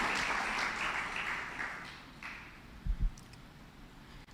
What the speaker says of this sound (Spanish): Alguien le da una ofrenda de palmas al Señor.